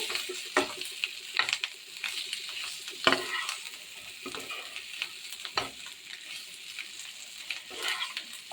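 Mutton pepper fry with fresh coriander stirred in a pan, a close crackling sizzle broken by repeated scraping strokes of the spoon at an uneven rhythm.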